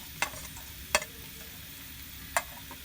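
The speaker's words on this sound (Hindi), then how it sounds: "ऑयल को अच्छी तरह गर्म कर लेते हैं। पत्तों वाली प्याज डाल देते हैं।" Green onions fry in hot oil in a kadhai for a cauliflower curry, a quiet sizzle underneath with three sharp scraping stirs of a spoon against the pan.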